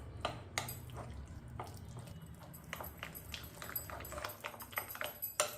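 Moong dal batter whisked with water in a bowl makes quick, wet clicking and slapping strokes in a fast, uneven rhythm, soft and close.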